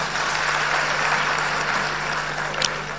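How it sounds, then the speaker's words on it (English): Audience applause at a National Democratic Congress political launch of the TEIN app, with steady, sustained clapping from a crowd over a low hum. "Shall we give them a round of applause?"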